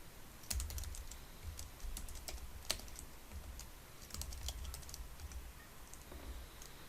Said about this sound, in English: Now I can access John by typing in the variable name